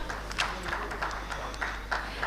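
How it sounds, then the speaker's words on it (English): People at an urban infrastructure and rail business summit give a round of applause. The clapping is faint and scattered over a steady low hum. "May we have a big round of applause for sir"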